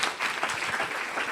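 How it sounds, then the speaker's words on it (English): Steady audience applause for book authors Daniela Rus and Gregory Mone at a talk on The Mind's Mirror, a dense even clatter of many hands clapping throughout, close and fairly loud. "let's give them a hand"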